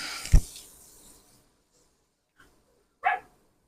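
A dog in a home kitchen gives one sharp, close bark, followed by quiet and then a second, higher yelp or yip about three seconds later, with no talking.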